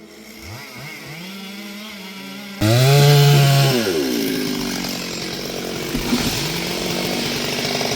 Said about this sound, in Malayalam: ഓരോ ഐഡിയകൾ വെച്ച് മരം മുറിച്ചുകൊണ്ട് നിൽക്കുകയാണ്